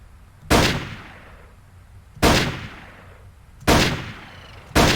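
Four loud, close firearm shots in a video game, spaced about one and a half seconds apart, each a sharp blast that decays with a reverberant tail, heard alone without talking.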